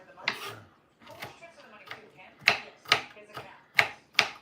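A bell pepper is chopped on a cutting board with a knife, sharp close knocks arriving in an irregular series and growing louder toward the end.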